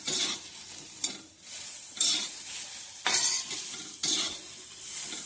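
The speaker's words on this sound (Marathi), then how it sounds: "भेंडोना भाजून घ्यायचो" Okra roasting in a pan, sizzling steadily while a spatula scrapes and stirs in regular strokes about once a second, close and clear with no talking.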